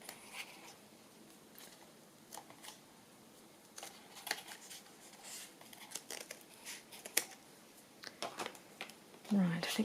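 Quiet, irregular snipping and rustling of paper being cut, a series of short crisp clicks with pauses, ending in a louder handling noise.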